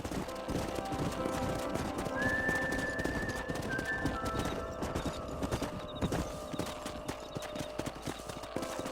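Horses gallop in the video game Red Dead Redemption, their hooves thudding in a rapid clip-clop. A brief whistle sounds over the hoofbeats, with a faint neigh, at moderate volume.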